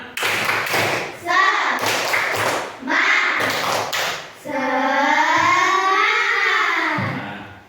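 Rhythmic hand claps in a third-grade classroom ring out in sharp bursts between children's chanted, sung voices, which end in a long drawn-out group call.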